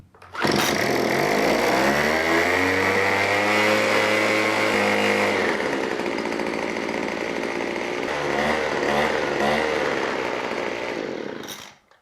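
A gas-powered leaf blower engine fires up and runs loud and close, with its pitch rising as it revs, then a second surge before it cuts off abruptly.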